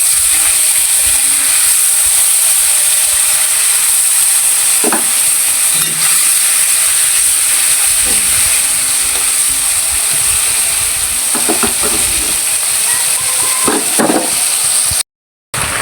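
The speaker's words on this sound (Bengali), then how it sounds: "একটু মাছ কড়া করে ভেজে খাই আমি।" Koi fish fries in hot oil in a kitchen pan, a steady bright sizzle running throughout with occasional scraping clicks from stirring, close and alone without talk.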